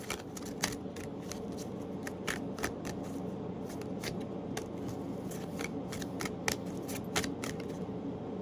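Tarot cards are shuffled by hand in a steady stream of quick, crisp riffling snaps. The rhythmic, close, fairly loud card clatter runs throughout with no voice.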